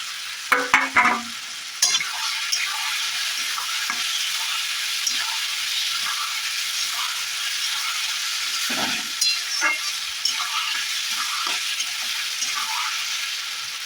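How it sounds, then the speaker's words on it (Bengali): Food sizzles steadily in a hot pan, with a few clattering stirs near the start and occasional scrapes as it keeps frying; onions and boiled potatoes frying for Bengali ghugni. "পেঁয়াজ আলু সুন্দরভাবে ভাজা ভাজা লাল লাল করে ভাজা ভাজা হয়ে গেছে"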